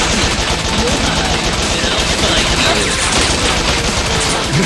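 Continuous machine gun fire from the run-and-gun video game Bot Vice, a dense, loud rattle of rapid shots with explosive bursts sustained throughout without pause.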